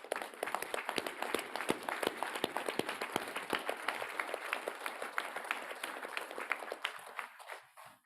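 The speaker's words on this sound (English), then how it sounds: "So please, a round of applause." At a tribal assembly, an audience applauds foster parents: a crowd's lively clapping with distinct individual claps, holding steady and then tapering off near the end.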